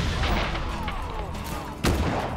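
Explosions and gunfire roar through a Just Cause 3 battle, a dense rumbling barrage with a sharp, loud blast near the end.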